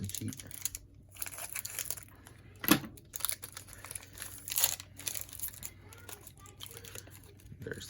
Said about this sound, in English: Oh, just open up your pack.